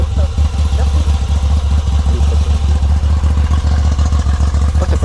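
A Moto Guzzi V85TT motorcycle engine runs steadily up close, a loud, even, low thrumming idle with a fast regular pulse and no talk over it.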